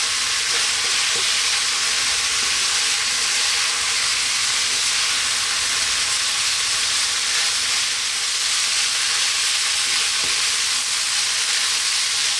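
Beef, rib eye and mushroom fried rice with garlic and five spice frying and being stirred in a pan over high heat, a steady loud sizzle and hiss that runs unbroken throughout with no voices.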